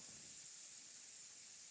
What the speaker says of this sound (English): I'm going to spray it lighter here though, just to establish it.